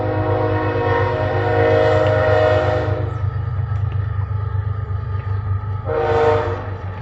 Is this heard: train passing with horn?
yes